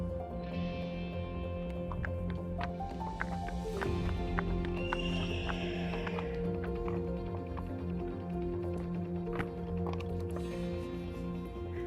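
Two horses led together into a field, soft hoof clops and movement over a steady humming background, with occasional faint clicks and a brief whinny-like sound.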